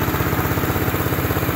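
A 1974 Honda XL250 motorcycle engine idles steadily nearby, a loud, even low-pitched putter with a rapid regular pulse, heard alone without speech.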